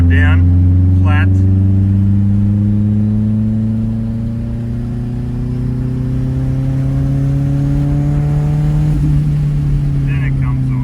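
A K24-swapped BMW E36 fitted with a big turbo and a loud exhaust accelerates at full throttle in fourth gear, its engine droning steadily and rising slowly in pitch. Brief bursts of talk come near the start and again near the end.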